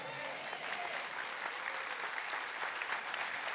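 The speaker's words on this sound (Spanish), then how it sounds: "ese aplauso lo tiene que dar con mayor fuerza porque tiene que ser de gratitud" A church congregation applauds during a sermon on prayer, sustained moderate clapping from many hands filling the room at an even level throughout.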